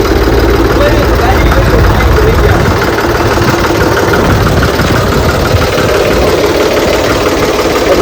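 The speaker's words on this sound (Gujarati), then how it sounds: "ટ્રેક્ટર આવી ગયું" A tractor engine runs steadily near a village home, a continuous low rumbling idle that holds at a loud, even level throughout with some voices mixed in.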